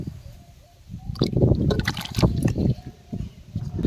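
Hot water poured and splashing over goat tripe while it is cleaned outdoors, a steady liquid wash with bursts of sloshing and trickling, fairly close, with no talking.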